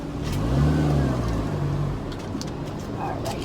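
Engine hum of a tiny car, low and steady, swelling briefly as it drives along, with no talk over it.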